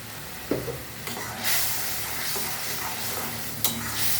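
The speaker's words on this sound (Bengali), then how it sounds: "এবার মশলাটাকে ভালো করে কষাবো। মোটামুটি মশলাটা ভাজা হয়ে গেছে।" Spice paste with salt and turmeric frying in a pan for a pabda fish curry, giving a steady close sizzle broken by a few sharp stirring scrapes and clinks, with no talking.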